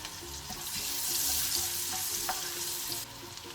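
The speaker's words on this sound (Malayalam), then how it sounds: "അപ്പോൾ അതിലേക്ക് നമുക്ക് ചെറിയ നമ്മുടെ ഉള്ളി ഷാലറ്റ്സ് എന്നിട്ട് മൂപ്പിക്കാം" Small shallots fry in melted butter with cumin for palak paneer, giving a steady close sizzle with light stirring scrapes and no talk.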